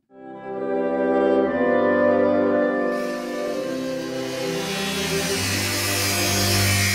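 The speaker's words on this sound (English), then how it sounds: "the sound you hear is a buzzsaw ripping through a painting of George Washington" A buzzsaw rips through a painting of George Washington, a loud steady grinding whine with shifting pitch that roughens into a harsher, brighter rasp partway through and holds at full strength to the end.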